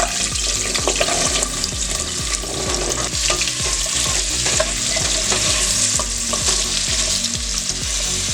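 Sliced carrots, four of them, sauté in a pan for a chiles en vinagre recipe, a steady dense sizzle with rhythmic scraping stirs throughout, close and fairly loud, no voices.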